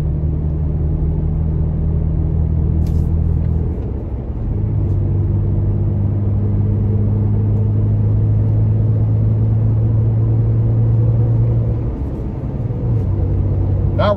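Aggressive off-road tires on a Toyota Tacoma hum loudly on pavement at highway speed, a steady droning tire roar with low road rumble that holds throughout and shifts pitch slightly as the truck cruises.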